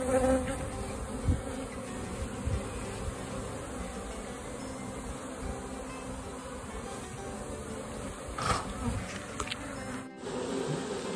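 A swarm of honeybees buzzing around the hives while foraging hard, a dense continuous droning hum filling the whole stretch, steady and close, with a few light knocks near the end.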